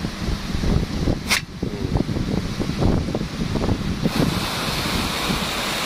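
A Big Gun Rain sprinkler sprays water outdoors, a steady broad rushing hiss with wind buffeting and repeated soft pulses of spray, loud and close throughout with no talk.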